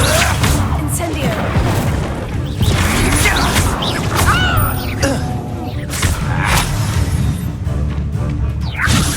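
Loud crashing blasts and whooshing bursts of the Incendio fire spell in Hogwarts Legacy rise and fall over several seconds of chaotic spell combat, with sharp impacts repeating throughout and voices shouting among the effects.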